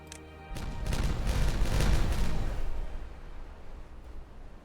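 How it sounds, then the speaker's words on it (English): A burst of booming blasts rolls in after a brief quiet start, rumbling loudly for a couple of seconds before fading into a low tail; triple dynamite explosions in the video game Timberborn. "I really do like those triple explosions."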